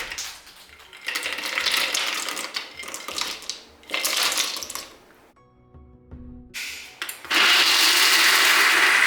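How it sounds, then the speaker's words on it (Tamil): Mixer grinder jar pulverising cashew nuts into fine powder in loud bursts, with short pauses and a quieter rattling stretch between runs of whirring and crushing. "இப்போ இதை மிக்ஸி ஜாரில் போட்டு நல்லா ஃபைன் பவுடரை அரைச்சிக்கலாம்."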